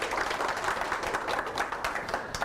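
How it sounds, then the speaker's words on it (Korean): Lecture audience applauding a professor at a Gangnam startup forum, a dense steady patter of clapping filling the whole stretch without pause, moderately distant. "오늘 강연과 질의응답 해주신 정지훈 교수님께 큰 박수 부탁드립니다"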